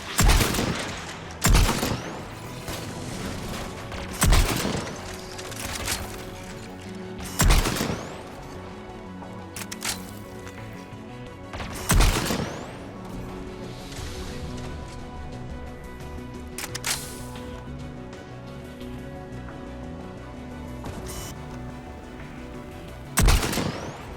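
Anti-aircraft guns in the video game Mass Effect 3 fire repeated loud booming blasts, roughly every two to three seconds, with fainter shots between them over a steady droning battle backdrop.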